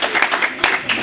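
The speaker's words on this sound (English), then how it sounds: "and so we applaud you" Applause from a group of people, a steady wash of clapping with several swells and no talk over it.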